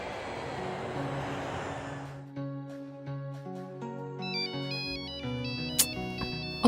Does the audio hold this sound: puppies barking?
no